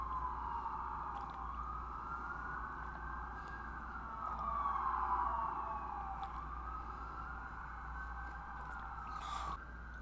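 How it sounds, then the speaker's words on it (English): A police car siren wails steadily through an open window, fairly faint and distant, its pitch rising and falling slowly over a low indoor hum. "Now there's a police car."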